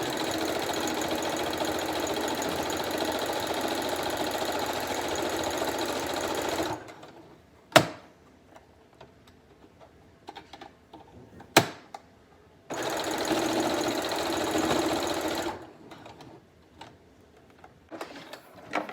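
A sewing machine stitches along a fabric seam in two close, even bursts of rapid mechanical whirring, about seven seconds and three seconds long, with quiet handling clicks between them.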